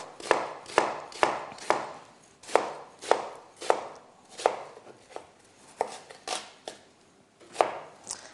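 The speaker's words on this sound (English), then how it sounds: "slice down across the onion like that" A knife cuts through an onion on a chopping board in about a dozen crisp, separate knocks, evenly paced and close by, with no voices.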